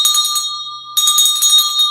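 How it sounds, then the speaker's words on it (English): A bell rings loudly with a clear, sustained metallic tone, fades briefly, then is struck again and keeps ringing. "Get a bell. Start ringing it."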